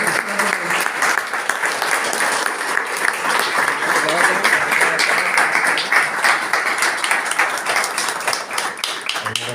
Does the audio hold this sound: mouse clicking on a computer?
no